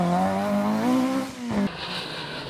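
A Toyota Starlet two-wheel-drive rally car on a Mull Rally stage, its engine note rising steadily as it accelerates, then dropping sharply as the driver lifts off, with gravelly road noise underneath.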